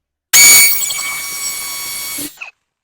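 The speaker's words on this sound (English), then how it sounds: "Got it set on hammer, so it's hammering in and spinning." A hammer drill bores into brick with a loud, steady grinding rattle for about two seconds, then stops abruptly with a brief clatter.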